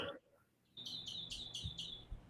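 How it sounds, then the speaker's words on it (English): A bird chirps in a quick, evenly spaced series of five or six bright, high notes, clear and fairly close, with no talking over it. "that bird is just chirping"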